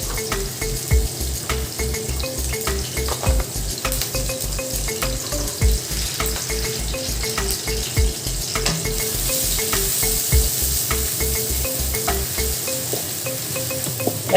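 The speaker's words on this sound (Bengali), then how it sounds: "ওই তেলে আমি পেঁয়াজ মরিচ দিয়ে দিব" Onion and chili sizzle steadily in hot oil left over from frying eggs, a loud continuous crackle with a rhythmic low thumping and occasional stirring scrapes, with no talking.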